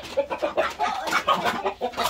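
Hens and a rooster clucking in a backyard coop, a busy run of short, choppy clucks close by with no talking.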